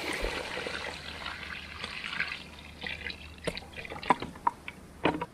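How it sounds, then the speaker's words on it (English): Water trickles and splashes into a container of fishing particles soaked with molasses, close and fairly quiet, with a few sharper drips and plops toward the end. "I fill it up with water."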